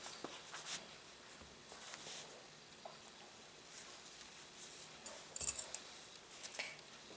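Scissors trimming thread after tailor's tacks are sewn, a few faint, quiet snips and small metallic clicks spread across a hushed room, with a brief cluster of sharper clicks near the end.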